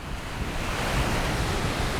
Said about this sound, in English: Little beach right there.